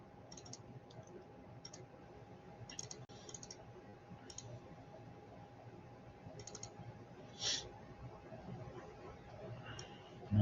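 A computer keyboard in use for Adobe Illustrator shortcuts gives faint, sparse key clicks in short clusters, with one slightly louder tap, over a low steady hum.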